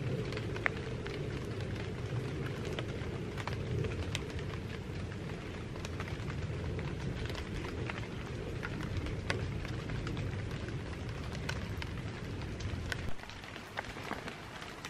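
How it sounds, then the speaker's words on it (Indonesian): Heavy rain pours steadily around people walking outdoors in Berchtesgaden, a dense, continuous hiss that stays loud and close for the whole stretch, with no talk over it. "Hujan banget gitu."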